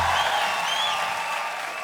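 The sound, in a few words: studio audience applause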